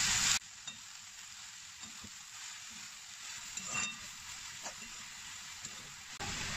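Sweet potato leaves with turmeric and salt sizzle in hot oil as they are stirred, giving a steady close hiss broken by soft scrapes and taps of a spoon against the pan.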